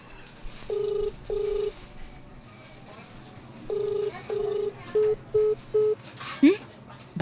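A phone call is dialed: a series of short electronic keypad tones in two bursts, the later ones quicker, heard up close with faint background sound.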